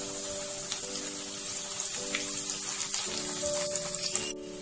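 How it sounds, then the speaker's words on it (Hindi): Onion pakoda fries in hot oil with a steady, close sizzle and light bubbling crackle throughout, ending with a sudden drop in level near the end. "दोनों तरफ से इसी तरह हम इसे फ्राई करेंगे"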